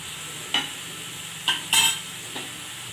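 Bitter gourd and potato masala stirred in a pan over a soft sizzle, four short scraping strokes at uneven intervals with no talking.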